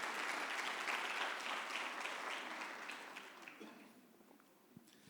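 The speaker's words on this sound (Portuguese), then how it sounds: "Palmas para Jesus aí." A church congregation applauds together, a steady wash of clapping that fades and thins toward the end, heard alone.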